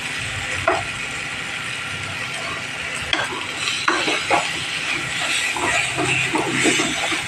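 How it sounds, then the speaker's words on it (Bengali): Curry in a pan is stirred and sautéed over steady, moderate sizzling. A spoon scrapes and clicks against the pan in uneven bursts, and no one speaks. "এটাকে কষিয়ে নেবো।"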